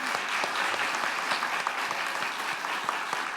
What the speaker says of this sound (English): Round of applause for Jim,